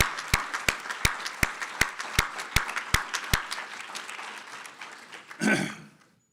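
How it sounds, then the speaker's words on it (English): Audience applause for a panel discussion at a Florida leadership event, with a run of sharp, regularly spaced loud claps standing out over steady crowd clapping that fades, then a brief louder swell of noise near the end. "Give them a round of applause again."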